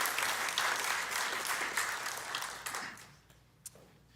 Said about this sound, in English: it's worth clapping